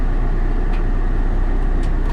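A 2001 Saab 9-3 rolls down off a trailer, giving a steady, loud low rumble and road-like noise that stays constant throughout, with no talking.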